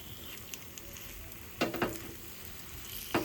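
Appe, Indian dumplings, frying in a pan with a soft, constant sizzle underneath. A few sharp clinks and scraping bursts come as they are turned, one pair close together and another near the end.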